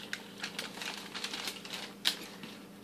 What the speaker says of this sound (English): So I'm just going to take a knife, a sharp one,